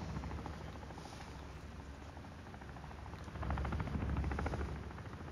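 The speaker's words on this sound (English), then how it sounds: "Helicopter." A helicopter in Call of Duty: Modern Warfare II DMZ churns as a steady low rotor drone that grows louder near the end, with no talk over it.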